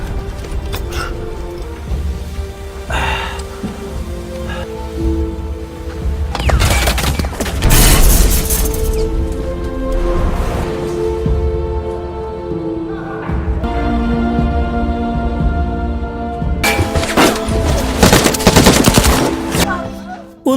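A gunfire barrage in a naval battle: dense, loud bursts of machine-gun fire and heavy booms come in repeated waves over a roaring, dramatic soundscape.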